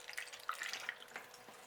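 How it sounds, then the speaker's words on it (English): Water poured through tarantula enclosure substrate and plant roots during repotting, faint close trickling and small dripping plinks scattered over a couple of seconds. "you can see straight away that this water runs through"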